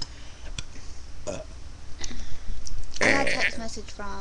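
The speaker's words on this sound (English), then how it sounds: "Gotta burp." A short, loud burp from a young woman on a webcam, preceded by some brief sniffs and noises, with her talking through the moment.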